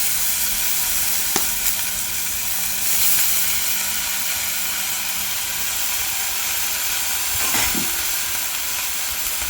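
Colocasia leaves sizzle in a pan with onion and tamarind, a steady loud frying hiss that continues throughout, with a couple of faint clinks of stirring.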